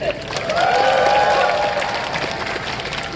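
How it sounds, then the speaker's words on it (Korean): Crowd applauding at an outdoor political protest rally, a dense steady wash of clapping mixed with cheers and voices, loud and close, holding for a few seconds before easing slightly. "명예교수님께 다시 한번 큰 박수 부탁드립니다."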